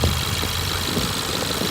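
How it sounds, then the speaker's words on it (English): Steady idle of a 2017 Ford Edge Titanium SUV engine, a continuous mid-range hum with faint rapid ticking from the fuel injectors running through it, no talk. "I hear the injectors firing. The series of ticks, tick, tick, tick, ticks."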